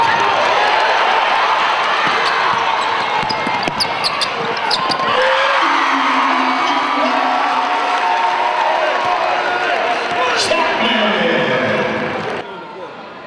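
Crowd at a Delaware State college basketball conference game roaring and cheering, with ball bounces and court noise in the mix and voices talking over it, before fading at the end.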